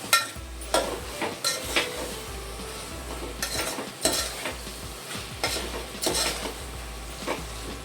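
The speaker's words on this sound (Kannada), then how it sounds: "ಇದೆಲ್ಲ ಸ್ವಲ್ಪ ಇದರಲ್ಲೇ ಚೆನ್ನಾಗಿ ಫ್ರೈ ಮಾಡ್ಕೊಳ್ಳಿ" Onion, spices and other ingredients for mushroom pulao fry in a pan with a continuous sizzle, while a spoon stirs and scrapes the metal in repeated rhythmic strokes, close and moderately loud.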